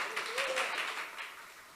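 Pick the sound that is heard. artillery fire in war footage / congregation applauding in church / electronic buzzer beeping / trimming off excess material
congregation applauding in church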